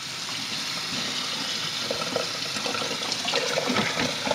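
Cold tap water gushes and splashes while rinsing out the inside of a turkey, a continuous running stream growing louder with sputtering splashes toward the end, close and without talk.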